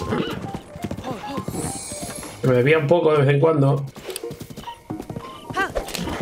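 A horse in Zelda Breath of the Wild clip-clops along, then lets out a loud whinnying neigh, with people speaking Spanish before and after.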